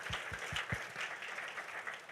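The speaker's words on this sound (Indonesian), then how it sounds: "Tepuk tangan dulu yang kencang buat Tuhan kita yang baik." Applause from a church congregation at a Sunday service in an Indonesian mall-building sanctuary, a steady wash of many hands clapping at moderate distance, with a few louder nearby claps at the start.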